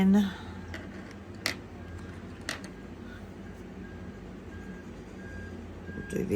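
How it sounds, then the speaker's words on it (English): Faint electronic beeps sound at spaced intervals against a low, steady background rumble, like a vehicle backing up outside. "I'm sorry about the beeping. There is a truck outside making a loud racket"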